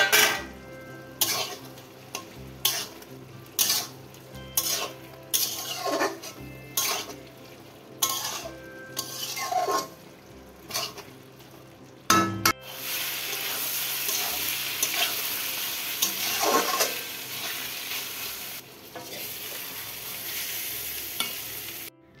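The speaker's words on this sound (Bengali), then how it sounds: "তো আমি কড়াইতে এগুলিকে ভালো করে একটু কষিয়ে নিলাম" Chicken curry with prawns is stirred and sautéed in a wok, the spoon scraping in a steady rhythm of repeated strokes. A continuous loud sizzle follows, with occasional clinks of utensil on metal.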